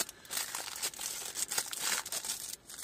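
A plastic Xiaomi packaging bag crinkles and rustles continuously at close range, with crisp irregular crackles and no speech.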